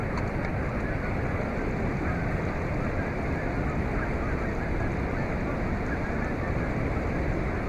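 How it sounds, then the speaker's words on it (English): Continuous broadband water noise, like waves washing against a boat, steady and fairly loud throughout with some wind rumble. "like the sound of the water."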